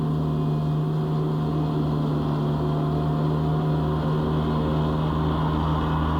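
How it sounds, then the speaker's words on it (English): A Gianni Ferrari ride-on mower runs steadily while mulching grass, its engine humming in a constant low drone at close range with a slightly lowered, laboring pitch and no talk. "You'll hear the revs drop down a bit as it's full on mulching now."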